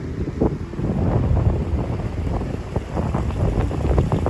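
Strong wind of 20 miles an hour with gusts to 40 to 50 roars steadily against the microphone on a farm, a dense low rumble with buffeting gusts that never let up.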